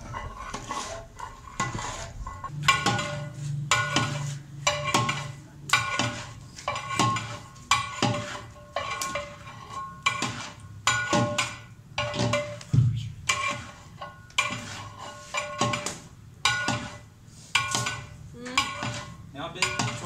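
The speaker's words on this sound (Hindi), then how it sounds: "अच्छी तरह से चमचा हिलाना है इसमें ताकि ये लगे नहीं" Metal ladle scraping and clanking against a large cooking pot of halwa, a steady rhythmic series of close, loud strokes with a low flame roar underneath.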